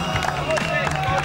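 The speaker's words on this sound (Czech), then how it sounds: "Ano, letmi potlesk." Audience applause and crowd noise at a 2003 Moravian-Silesian league competition results announcement, a steady wash of clapping with some cheering and voices mixed in.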